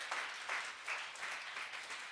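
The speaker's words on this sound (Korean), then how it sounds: "우리 주님께 영광의 박수를 올려드리겠습니다" Congregation clapping in a church service, a soft, fairly distant wash of applause with gentle rhythmic swells, steady and alone without voices.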